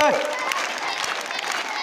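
Schoolchildren clapping loudly and in unison during a school gathering with chanting, a dense burst of applause heard together with crowd voices and shouting.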